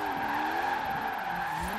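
Tires squeal in a steady, sustained drift during a clutch kick, with a high engine note underneath, from a 270 mph one-gear hypercar in Forza Horizon 4. The squeal and engine stay loud and continuous.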